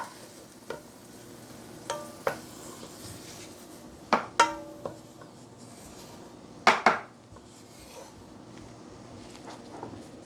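Curry hits a pan and is stirred while it sizzles softly underneath, with sharp clinks and scrapes of a utensil against the pan coming in scattered bursts.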